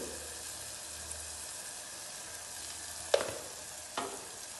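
Chilli, turmeric and garam masala powders frying in a pan for potato paneer curry, a soft continuous sizzle with two sharp stirring scrapes near the end, no talking.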